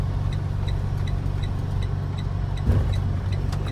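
A JB Hunt semi truck idles with a steady low diesel rumble, then a brief burst of louder engine and mechanical noise marks it starting to pull forward, close and continuous throughout.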